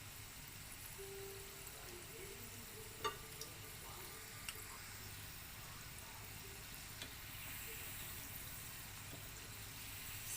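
Shrimp balls frying in oil over a slow flame, a soft, steady sizzle with a few faint clicks and a quiet utensil tap, close but low in level, with no talk.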